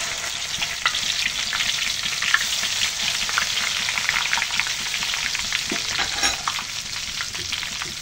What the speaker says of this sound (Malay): Okey, kita goreng dulu ikan bilis.